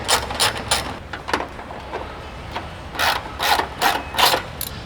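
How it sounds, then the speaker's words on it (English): A ratchet with a 10mm socket undoing the bolts of a Kia Cerato GT sedan's under tray gives bursts of quick clicking, a few short runs spread across the clip, close and moderately loud with no talk. "take your 10mm socket and undo the 2 bolts that hold the remainder of the under tray in place"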